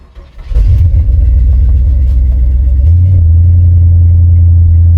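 An old Ford car engine cranks and catches within a second, then settles into a loud, close, steady rumbling idle with a slight shift in tone partway through, and no voices.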